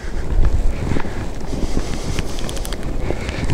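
Wind blows across an outdoor conifer nursery, a steady gusty rush with low buffeting rumble against the microphone, no voices.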